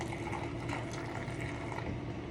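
A brine of water and vinegar pours into a jar for pickled okra, a steady close trickle and gurgle lasting a couple of seconds with no voices.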